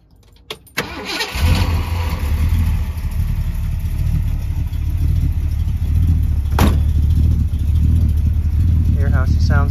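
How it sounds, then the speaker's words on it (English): A cold 1964 Ford Galaxie 500 engine cranks briefly, catches and settles into a loud, steady, rumbling idle that runs close and unbroken for several seconds. "I'm going to go ahead and start it up for you."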